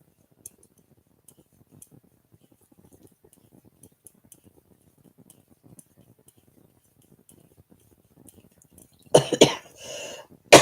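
Racking cough during a Saturday night crafting session: near-silent room with faint ticks and clicks, then a loud, harsh cluster of coughs close by toward the end.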